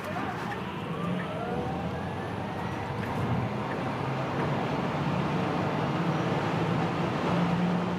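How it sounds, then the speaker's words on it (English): A Tesla Model S Long Range accelerates hard onto a motorway, with steady road and wind roar and a faint rising electric-motor whine that swells slightly louder over the run. "as soon as I hit this accelerator pedal, everyone else will go nuts"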